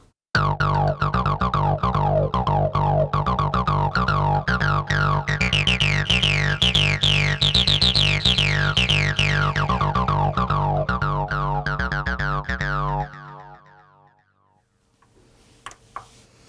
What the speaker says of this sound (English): we've got the acid filter, the TB303 filter